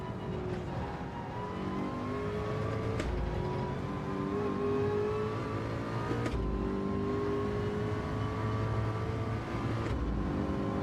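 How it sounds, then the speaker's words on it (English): A race car engine in a sim racing game drones at steady high revs, with a few quick gear-change dips, a constant mechanical whine and hum at moderate level with no talking. "This car sounds good."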